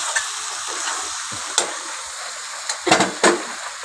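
Pumpkin, potato and shrimp stir-fry in a pan, a steady close sizzle with a few sharper scraping stirs near the end and no voices.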